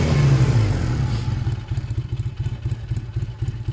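A motorcycle engine idling low while its idle screw is being adjusted on a cold start, with a steady, close, chugging pulse after a brief louder rev at the start, no talking.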